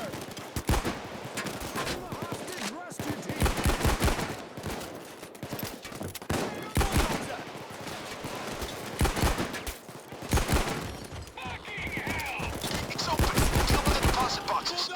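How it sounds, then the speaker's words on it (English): Bronco revolver gunfire in the video game PAYDAY 2: heavy shots in rapid, irregular bursts over a continuous din of in-game combat, loud and close throughout. "I was going ballistic with the Bronco revolver"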